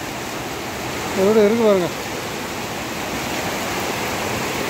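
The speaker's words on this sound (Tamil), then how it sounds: "அவ்வளோ மழை பெய்யுது." Heavy rain pours in Ramamurthy Nagar, Bengaluru, with rainwater rushing along the ground, making a continuous, dense hiss throughout. A voice speaks briefly over it near the start.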